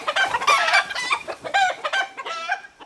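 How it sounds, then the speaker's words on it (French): Several chickens cluck and squawk in agitated, overlapping bursts, close and fairly loud, with a rooster-like cry among them. "Minou s'enfuit avec ses poules en panique."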